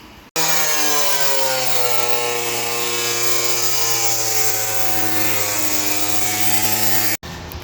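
A power tool cuts vent holes in a car hood with a loud, continuous whine that holds steady for about seven seconds and then stops abruptly.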